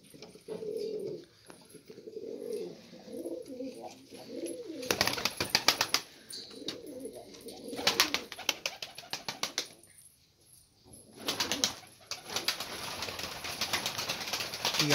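Tumbler pigeons coo softly at close range in a loft, with several sharp bursts of wing flapping cutting across the low, murmuring calls.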